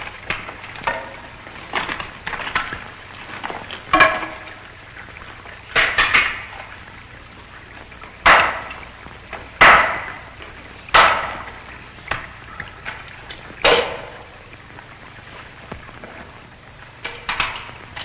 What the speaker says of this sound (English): I brought 2 hammers, you know.